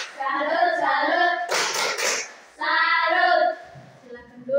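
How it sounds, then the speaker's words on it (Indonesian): A classroom group of students performs a rhythmic salute clap, short bursts of clapping between stretches of children chanting together in unison, fairly close and loud. "kita beri tepuk salut dulu untuk kelompok melati"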